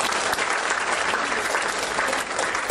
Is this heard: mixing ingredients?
no